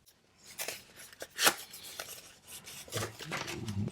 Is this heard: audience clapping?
no